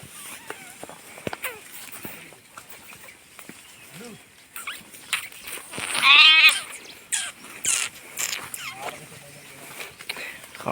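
Out on a grassy hillside after rain, a sheep lets out one loud, wavering bleat midway through, among scattered rustles and faint movement from the grazing flock, with voices present at times.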